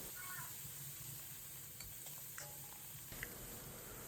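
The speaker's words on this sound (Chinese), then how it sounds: "另起锅放少许油，油热以后放入准备好的豆瓣酱、泡椒，将豆瓣酱炒出红油" Doubanjiang chili bean paste and pickled chilies frying in a little hot oil in a wok give a steady, moderate sizzle with a few soft clicks of stirring, heard alone without voices.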